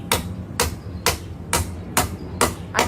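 A man hammers while building a bridge, giving about seven sharp, evenly spaced strikes roughly every half second, close and loud.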